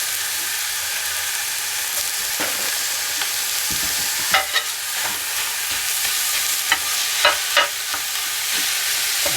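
Ground beef and diced onion fry in hot olive oil with a steady broadband sizzle, while a spoon scrapes and stirs in scattered sharp clicks and scrapes across the pan, no talking.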